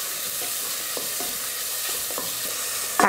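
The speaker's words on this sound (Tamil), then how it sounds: "வெங்காயம், வெள்ளைப்பூண்டு, பச்சை மிளகாய் வதக்கிறதுக்காக மட்டும்தான் அந்த எண்ணெய் கொஞ்சம்." Onion, garlic and green chili sautéing in a little oil in a pan, giving a steady hiss with occasional soft stirring scrapes and a sharper clatter at the very end, with no voices.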